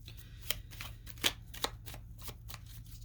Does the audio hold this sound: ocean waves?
no